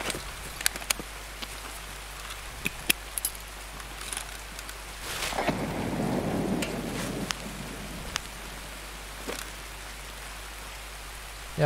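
Rain in the video game Escape from Tarkov: a steady, even patter of rainfall fills the whole stretch, with scattered sharp ticks and a louder rushing swell in the middle, and no talking.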